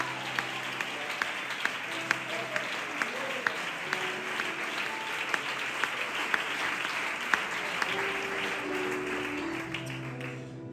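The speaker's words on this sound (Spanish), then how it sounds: "Ese aplauso para el Señor" A congregation claps in steady applause during a church service, a dense, even patter of many hands sustained for several seconds with occasional sharper claps standing out, fading slightly at the end.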